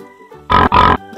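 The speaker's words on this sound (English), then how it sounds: "This is the pig." A toy farm animal puzzle piece plays a pig sound: two loud, close, rough grunting oinks in quick succession, electronic and buzzy, after a brief quiet lead-in.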